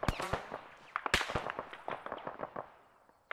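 Irregular volleys of sharp rifle shots in an ARMA 3 firefight, a dozen or more cracks at uneven intervals, some loud and close, others softer and more distant.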